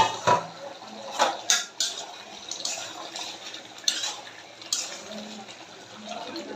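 A spoon stirs chicken pieces and mixed spices in a cooking pot, with several sharp metallic clinks and scrapes spaced irregularly over a quiet, soft background.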